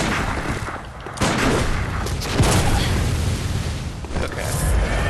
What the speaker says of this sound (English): doesn't feel like doing anything but shooting their blunderbuss